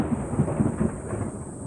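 Thunder from a passing storm rumbles low and steadily, with soft rolling swells, heard at a distance and moderately quiet, with no voices over it.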